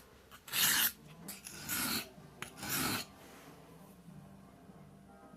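A blade is drawn across a whetstone in three close, distinct rasping strokes, each a short bright scrape, followed by quieter handling and near silence.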